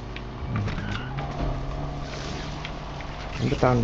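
A Land Rover Defender 110 drifts in the racing game NFS Unbound, a loud continuous engine drone with shifting tones and tyre noise, and a voice talking over it briefly.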